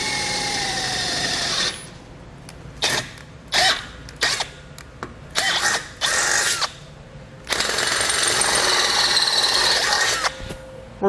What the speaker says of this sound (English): We've made our mark, and we're now going to drill it out.